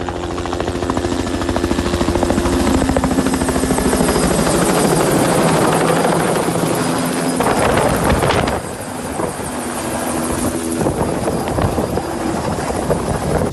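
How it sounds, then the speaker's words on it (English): Helicopter lifting and carrying trees, its rotor thudding loud and steady throughout with wind buffeting, the pitch and intensity shifting as it moves, no voices. "This helicopter pilot picking up trees."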